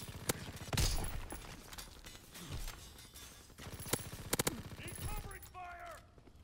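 Gunfire in Call of Duty WW2 during online play, several sharp close shots and short bursts scattered across the stretch, mixed with other game effects, heard with no talk.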